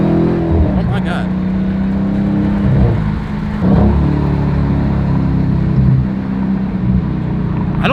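A supercharged Dodge Hellcat Redeye accelerates hard, its engine roaring and whining from inside the cabin, loud and sustained with small dips as it pulls, while people in the car talk over it.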